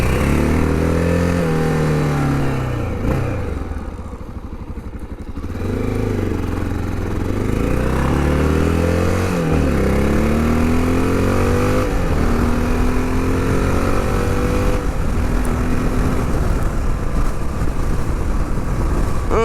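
A 2023 Honda XR650L with stage 1 mods rides along a trail, its single-cylinder engine loud and close, rising and falling in pitch as the rider revs and shifts, with a brief dip around five seconds.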